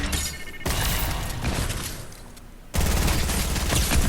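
An SMG fires in Fortnite, rapid bursts of close, loud gunfire with crackling impacts, a brief lull and then a denser, heavier volley near the end.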